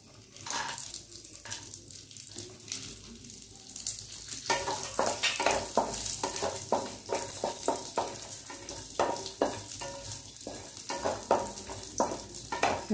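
Raisins fry in a pan over a low gas flame, a steady crackling sizzle broken by repeated scraping stir strokes, close and fairly loud throughout with no talking.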